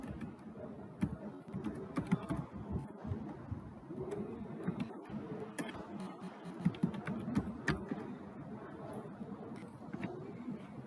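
Quick, light clicks come from a computer keyboard as an email address is typed, close and fairly soft over a murky background hum for several seconds.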